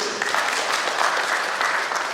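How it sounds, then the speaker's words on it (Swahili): Audience clapping in a meeting hall for small-scale miners, a dense steady round of applause from many hands that stays loud and even for the whole stretch. "Tusituangie makofi wachimbaji wadogo."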